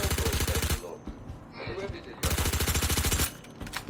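Automatic gunfire in the game Star Citizen rattles in two long rapid bursts, loud and close, with a short gap of softer clatter and faint speech between them.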